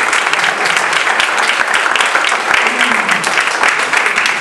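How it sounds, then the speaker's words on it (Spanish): A crowd applauds loudly and steadily, dense clapping filling the whole stretch without pause. "un aplauso muy fuerte"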